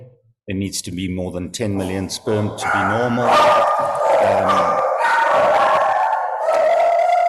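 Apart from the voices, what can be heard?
dogs barking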